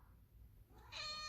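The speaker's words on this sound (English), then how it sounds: "That's my cat." A house cat gives a single short meow, clear and fairly close, after a brief quiet stretch with low background noise.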